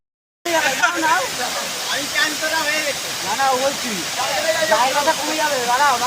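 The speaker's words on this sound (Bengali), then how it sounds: "এতক্ষণ পর পাহাড়ে একটা ঝর্ণা দেখা গেছে" A steady rushing hiss of a mountain waterfall fills the background while people talk over it nearby.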